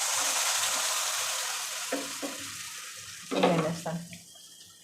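Ground masala sizzling and frying in a pan for Afghani egg curry, a steady hiss with stirring scrapes and louder bursts of crackle near the end, close and fairly soft.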